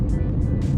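A car drives along toward a gas station, a close, steady low engine and road rumble inside the vehicle with a few brief hissing whooshes.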